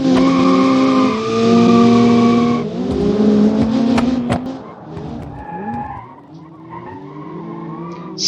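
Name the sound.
race cars starting a folk race in the video game Automation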